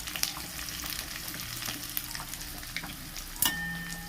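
Spice paste of ginger, garlic, chili and onion with turmeric, cumin and coriander powders frying in oil in a pan for a cauliflower and potato curry, a steady close sizzle with light scraping and clicks, ending in a sharper hiss.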